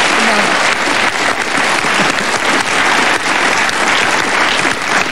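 Thunderous, dense applause from a German TV game-show studio audience greeting a guest, loud and steady throughout with no break.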